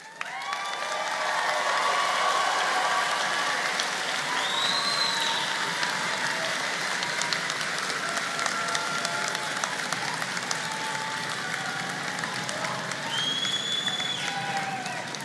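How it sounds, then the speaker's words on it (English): A large crowd at a college graduation ceremony claps continuously, a thick, even wash of applause with occasional whistles and cheers rising above it. "let's give them all a round of applause"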